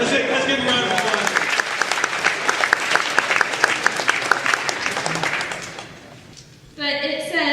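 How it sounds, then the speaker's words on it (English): An audience bursts into a strong round of applause, dense clapping that holds steady and then fades away, followed by a person starting to speak. "Let's give him a round of applause."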